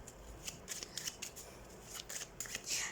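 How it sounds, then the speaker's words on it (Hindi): A deck of tarot cards shuffled by hand, a quiet series of quick papery riffles and flicks in irregular bursts, close and soft with no talking. "तो सबसे पहले हम कार्ड शफल कर लेते हैं"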